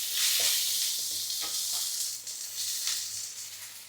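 Green chillies and curry leaves hit hot coconut oil in a pan for a fish curry, setting off a close, steady, hissing sizzle. Soft stirring scrapes come through, and the sizzle fades slightly as the clip goes on.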